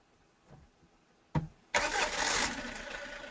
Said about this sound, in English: finally we hear the engine noise without the whistling sound